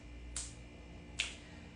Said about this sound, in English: I'm going to snap my fingers